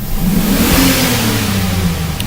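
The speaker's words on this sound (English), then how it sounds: "Now I'm gonna do a full wide open throttle, snap throttle." Car engine at wide open snap throttle during a stall test, revving loudly and steadily close by with a sustained roar, no voices.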